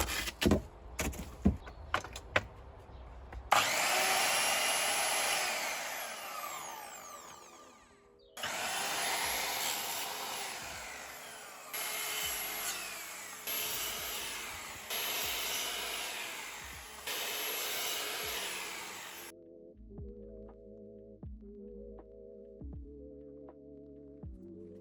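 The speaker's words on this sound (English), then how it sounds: "an electric miter saw is my new favourite tool ever" An electric miter saw cutting wooden trim for a kitchen island: a few sharp knocks, then several loud sustained whining cuts in a row, each ending abruptly, close by, followed by a quieter hum with rhythmic pulses.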